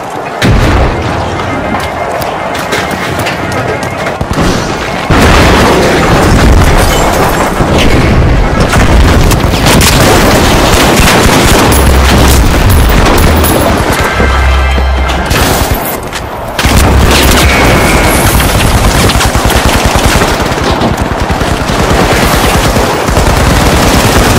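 Frag grenade blasts and heavy automatic gunfire in the shooter game The Finals, loud and continuous, with deep booming explosions around the middle and later stretches of a dense firefight.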